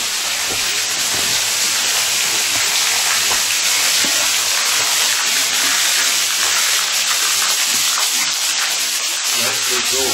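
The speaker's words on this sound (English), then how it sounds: "This rock with the water running on it's real slick." Water runs over a slick rock outdoors in the Kentucky woods, making a steady, close, hissing rush that continues without a break.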